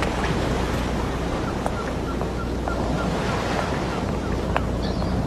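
Sea waves wash onto a shore in a steady, broad roar, with heavy wind buffeting the microphone throughout.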